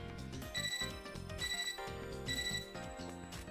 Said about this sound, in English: Sounds like a cell phone ringtone